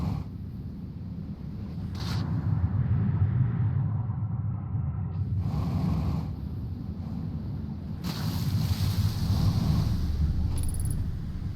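A boat moves across the water in the video game Outer Wilds. A low, continuous rumble runs throughout, broken by a few brief, brighter splashes and swooshes.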